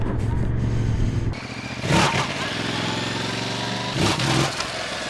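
A Yamaha MT-07 motorcycle engine idles and rumbles, then revs up in two short bursts a couple of seconds apart, heard close by with no talking.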